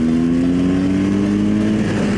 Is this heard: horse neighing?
no